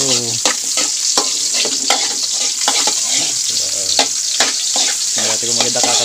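Onions sauté loudly for crab adobo, a constant sizzle broken by repeated scraping and clanking strokes of stirring in the pan, close and vigorous.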